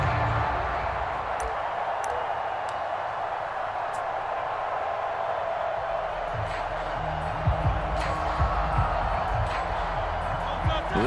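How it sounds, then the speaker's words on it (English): Stadium crowd noise from the football video game Madden NFL 24, with a steady roar of cheering and a few sharp whoops and claps near the end, under continuous commentary. "That just means this crowd's going to get even louder"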